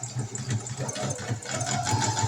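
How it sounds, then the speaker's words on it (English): A sewing machine back stitches a quarter-inch fabric seam, a steady close mechanical whir with a rapid rhythmic needle knock running continuously and rising slightly in speed. "So I'm going to back stitch."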